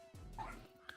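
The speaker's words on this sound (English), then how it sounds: "I think your dog is wanting to become part of the conversation" A dog under a desk gives a short, faint yip and whimper, one quick sound close to the microphone in an otherwise quiet room.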